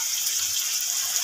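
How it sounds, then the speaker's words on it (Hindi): About half a cup of water pours into a cooking pan of frying vegetables for chicken Chinese tikka biryani, making a steady, close, even hiss for just over a second with no voices. "पानी ऐड करेंगे"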